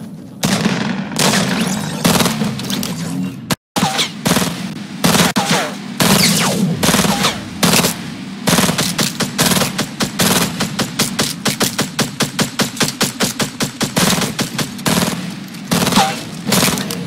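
Loud, sustained automatic gunfire from players fighting close by in Fortnite, with rapid-fire bursts that rattle on almost without a break and one brief silent gap early on.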